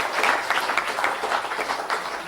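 Audience applause at the closing ceremony of the ICSE 2023 software engineering conference, a steady, dense patter of many hands clapping throughout, fairly close and moderately loud, with no voices over it.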